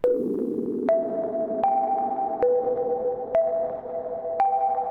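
A clean, compressed sine synth tone with chorus and delay plays a slow sequence of sustained notes, each starting with a sharp click and trailing into a soft echoing wash.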